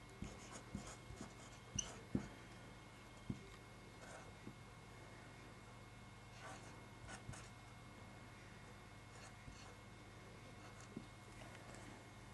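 A pen scratches and scrapes across paper while a quick diagram is sketched, with faint, irregular ticks and strokes over a steady low background hum; no one speaks.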